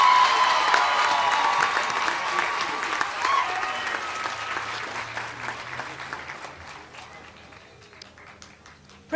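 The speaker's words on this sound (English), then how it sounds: "You may now applaud these three graduates." Steady applause from a large audience fills a university commencement ceremony hall as graduates are honored, loud at first and gradually thinning out over several seconds.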